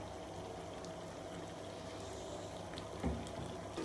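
Beef frying in ghee in a pot, a soft steady sizzle and bubbling with a few faint clinks near the end, close and fairly quiet, no voices.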